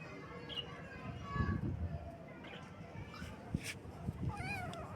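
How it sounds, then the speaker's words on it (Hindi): A tiny newborn kitten whose eyes are not yet open gives thin, high mews, a few short cries scattered over background hiss with faint voices and other noises nearby. "मियाऊं मियाऊं करने में लगा हुआ"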